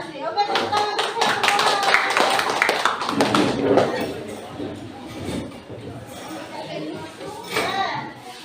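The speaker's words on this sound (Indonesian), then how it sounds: "Oke, tepuk tangan untuk saya" Classroom of children clapping together in a burst of rapid, fairly loud hand claps that fades, followed by chatter and a few more scattered claps.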